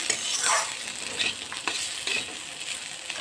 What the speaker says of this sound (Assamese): বনাই আছোঁ মই ফুলকবি আলু ভাজি।